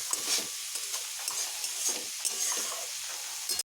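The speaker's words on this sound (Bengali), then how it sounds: "ঢাকা খুলে এবার আমি আরও একটু এইভাবে নেড়ে নেবো আরও একটু ভালোভাবে ভেজে নেব" Sliced banana stem fries and is stirred in a pan, a continuous bright hiss and crackle with soft scraping strokes throughout, ending abruptly; no speech.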